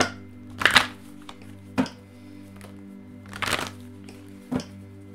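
Tarot cards being shuffled by hand in a few short, crisp riffling bursts separated by pauses, close up over a faint steady hum.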